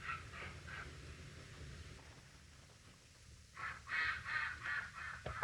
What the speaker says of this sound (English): If you think you hear ducks in the background, I have neighbors that now have ducks.